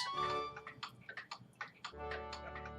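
Horse crown wall clock with a time and strike movement ticking steadily in a quiet room, a soft, even series of close, crisp ticks.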